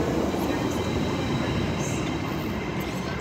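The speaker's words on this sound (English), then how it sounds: "That's from Manchester Airport to Edinburgh Waverley." A passenger train running from Manchester Airport to Edinburgh Waverley passes near Edinburgh Haymarket station, a loud, steady rumble of wheels and engine filling the scene with faint high squeals over the roar.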